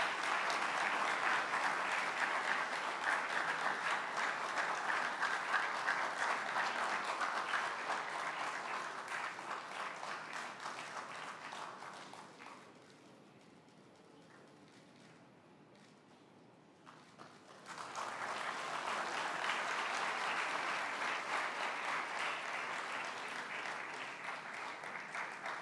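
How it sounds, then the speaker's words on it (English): Audience applause for Prem Rawat at a Scouts peace award ceremony, a dense, sustained clapping crowd that fades to a quiet lull midway, then swells back strongly and continues. "Let's give an applause."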